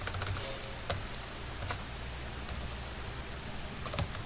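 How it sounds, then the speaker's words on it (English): Quiet, steady tapping on a computer keyboard while a search is typed into Google, a continuous run of light clicks with a few slightly louder keystrokes and no talking. "I go to google.com, and when I type in books"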